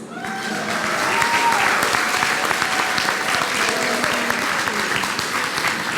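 Steady, loud applause from a large crowd at a Cooperative Hall of Fame induction ceremony, sustained clapping throughout with a few faint voices mixed in.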